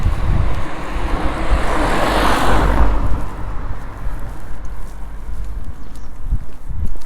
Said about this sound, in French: il y a une voiture qui s'en vient